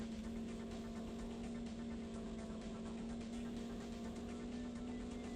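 A rally car drives in the N64 racing game Top Gear Rally, its engine a steady, droning hum that holds at a constant pitch throughout, fairly quiet and with no voices.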